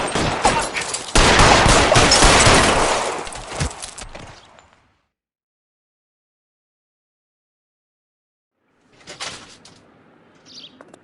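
A loud burst of rapid covering gunfire in the LA Noire video game, packed shots for about four seconds that trail off into silence, then a brief fainter flurry of shots returns near the end.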